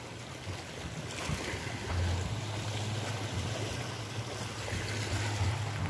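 Gentle sea waves at Lambug Beach roll in as a steady, soft wash of surf, with a low rumbling swell and no voices.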